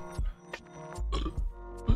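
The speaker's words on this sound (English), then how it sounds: "Let that burp come out." A person burps a few times, each burp short and low. Bits of voice and gulping noises come between them, and the whole thing is close and moderately loud.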